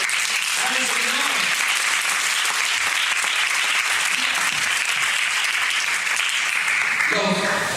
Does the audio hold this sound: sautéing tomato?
no